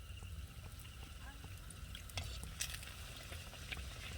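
Pitha batter fries in hot oil as homemade rice-flour cakes puff up in a village kitchen, giving a faint, steady sizzle with light bubbling and occasional clicks of a utensil.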